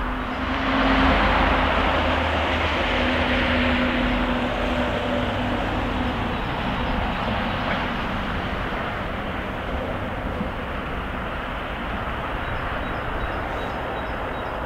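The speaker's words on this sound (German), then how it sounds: "links am Bildrand steht, glaube ich, eine Vectron oder fährt eine Vectron" A train hauled by a Vectron locomotive passes at Gemünden am Main, a broad, steady rolling rumble that stays loud and constant for roughly fifteen seconds.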